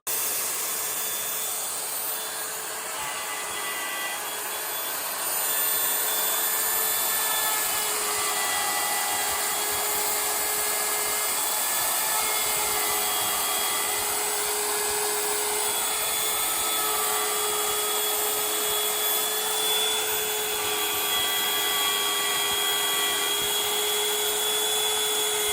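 A pantograph-guided router engraving letters into wood gives off a steady, loud high-pitched whine that holds throughout, with a slight rise in intensity partway through and no speech.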